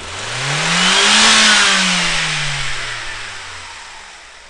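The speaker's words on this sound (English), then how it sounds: "we're going to go wide open throttle" A car engine revs hard, pitch climbing to a loud peak and then slowly falling away as the throttle eases off, with no talk over it.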